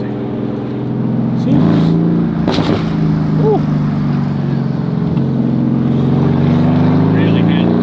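Straight-piped Ferrari F50 hypercar with a Formula One–derived engine, droning steadily and loud from inside the car, rising briefly in pitch as it pulls, with a short exclamation over it.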